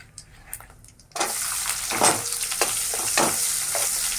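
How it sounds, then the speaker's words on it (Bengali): Chopped onion hits hot oil for an okra and coconut dish: after a quiet start, a sudden loud sizzle bursts out and keeps crackling steadily, close by, with stirring scrapes over it. "এখানে দিয়ে দেবো পেঁয়াজ কুচি"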